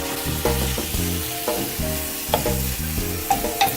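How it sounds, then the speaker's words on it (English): Beef cooks in a pan with mushrooms and onions, sizzling under repeated scraping stir strokes and clinks of a utensil, close and moderately loud, no speech. "we're adding the beef to the mixture and we're gonna cook it for 5 more minutes with the beef"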